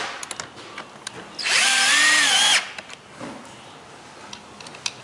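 Power drill driving screws into a mobile mini caster, a single loud whining burst of about a second rising in pitch, with faint clicks and handling noises before and after.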